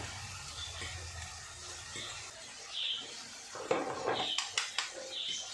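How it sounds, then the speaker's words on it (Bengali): Spoon scraping and clinking against a bowl while a paste of Kashmiri chilli powder, coriander and yogurt is mixed with water, a quiet scrape at first, then a run of sharper clinks toward the end. "এবার এটাকে জল দিয়ে একটু ভালো করে গুলে এটার মধ্যে দেব।"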